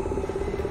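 A steady, rhythmic croaking loops through a creepy moment in the horror game Visage, a close, moderately loud frog-like rattle repeating several times a second with no voices over it.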